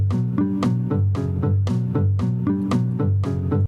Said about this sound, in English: I want to start by showing you guys a cool spider chord exercise, and it sounds like this.